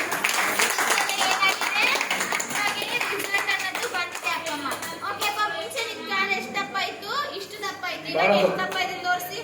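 Loud rhythmic hand clapping at a therapy care center, sharp repeated claps mixed with voices talking and singing over them throughout.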